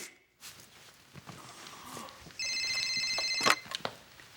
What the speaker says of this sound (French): On tente de communiquer avec moi par le biais de mon téléphone portatif!